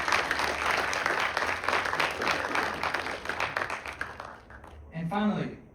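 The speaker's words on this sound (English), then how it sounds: "Please give him an applause." An audience at a business event applauds warmly, dense clapping running for about four seconds before fading out as a voice begins speaking at the end.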